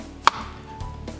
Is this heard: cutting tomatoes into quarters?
yes